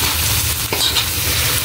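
Cabbage is stirred in a pan with corned beef, a loud, close, continuous hiss of frying with scraping stirring movements and no voices.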